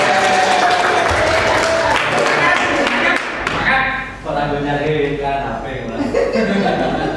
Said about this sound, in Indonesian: Beri tepuk tangan untuk Kak Riri